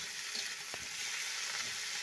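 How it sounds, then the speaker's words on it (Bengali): Chopped tomato frying in a pan, a quiet steady sizzle with a couple of soft stirring knocks, heard alone without talking. "এর মধ্যে এবার টমেটো কুচিটা দিয়ে দিচ্ছি, দিয়ে ভালো করে এটাকে ভেজে নিতে হবে"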